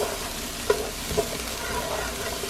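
Onions sizzling in a pan, a steady moderate crackle with a couple of brief sharper pops.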